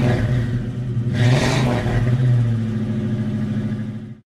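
A Ford EB Falcon's engine turns over and catches, then revs up sharply around a second in, settling into a loud, steady mid-pitched idle before cutting off abruptly at the end.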